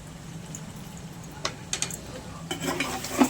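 A spoon stirs chilli powder into a simmering egg and drumstick curry, making quiet bubbling with a few sharp clinks and scrapes against the pot, growing busier toward the end.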